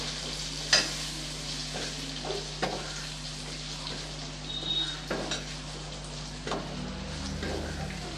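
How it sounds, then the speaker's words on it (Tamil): Onions and tomatoes sautéing in a pan for chicken dum biryani, a steady sizzle with scattered stirring scrapes and utensil knocks, close and moderately loud with no talk. "பெரிய சைஸில் ரெண்டு தக்காளி அதையும் சேர்த்து நல்லா வதக்கி விட்டுறலாம்"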